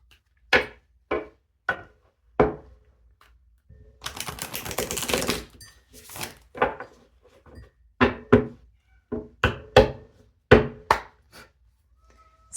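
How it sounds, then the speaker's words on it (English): Oracle cards shuffled: a series of sharp taps and snaps with a short riffling burst in the middle, close and distinct. "One more shuffle."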